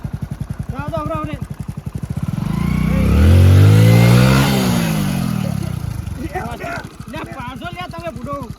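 A motorcycle engine revs, swelling into a loud, rising roar in the middle and fading back down, with people talking before and after.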